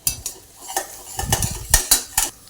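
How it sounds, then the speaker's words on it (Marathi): Onion sautéing in oil with ginger-garlic paste, stirred with a metal spoon: a series of loud clinks and scrapes against the pan over a faint sizzle, close up and without speech. "कांदा आता याच्यात परतून घेऊ चांगला कांदा आता चांगला आपण परतून घेऊ आता तेलामध्ये"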